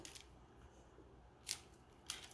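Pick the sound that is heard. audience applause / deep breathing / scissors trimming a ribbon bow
scissors trimming a ribbon bow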